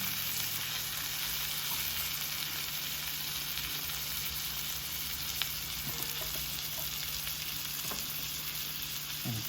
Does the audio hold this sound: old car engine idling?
no